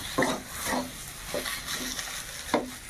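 Spiced mashed potato chokha is stirred in a hot pan, with a spoon scraping in regular strokes roughly every half second over a soft sizzle, close and without talk.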